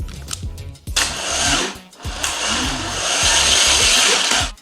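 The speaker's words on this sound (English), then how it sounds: "apply 12-volt power to it, it'll excite the starter and turn the motor over" A starter motor cranks a junkyard GM Ecotec engine on a stand, fed 12-volt battery power. It gives a near, loud whirring grind in repeated pulses, with a short pause before a longer sustained crank.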